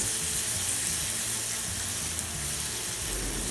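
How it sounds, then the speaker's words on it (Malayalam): Sliced banana sautéing in melted butter, a soft, even sizzle that holds steady for a few seconds with no talking. "ഇനി ഈ ബട്ടറിൽ നമുക്ക് പഴം വഴറ്റിയെടുക്കാം"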